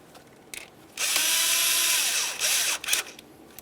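A power tool runs in one sustained whine of about a second and a half, then gives a short final burst, as it drives the ignition coil mounting bolt into a 2009–2010 Pontiac Vibe engine.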